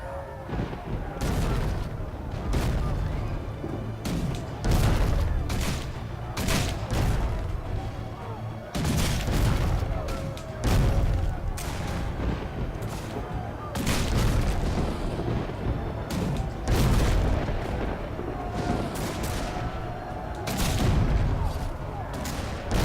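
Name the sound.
cannon fire in a video game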